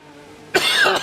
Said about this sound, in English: I do apologise for the coughing